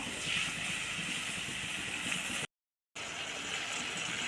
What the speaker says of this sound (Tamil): புளித்தண்ணி நல்லா கொதிச்சிட்ருக்கு